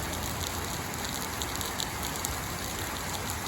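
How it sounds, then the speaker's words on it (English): Heavy rain pours steadily near an interstate highway in Kingsport, Tennessee, a dense, even hiss of drops striking hard surfaces close by with no talk over it. "That is rain."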